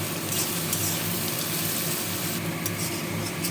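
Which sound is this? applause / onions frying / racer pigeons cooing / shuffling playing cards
onions frying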